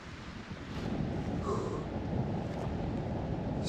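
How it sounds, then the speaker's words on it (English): Steady wind buffeting the microphone on a Montana backpacking trail, a continuous low roar that holds through the whole stretch without any voices. "So windy right now, feels so good."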